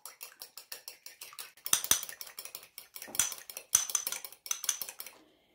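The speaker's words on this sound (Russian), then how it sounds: "Вначале я немного взобью белок." Egg white being whisked in a bowl for a homemade face mask, giving a quick run of rhythmic clinking metal-on-bowl strokes in steady bursts, close and fairly loud, with no talking.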